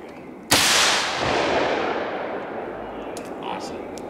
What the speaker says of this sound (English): You don't need hearing protection with a shotgun.